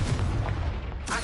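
Confringo blasting curse explosion in Hogwarts Legacy, a short dense boom with rumbling low body, followed by a brighter burst as it ends.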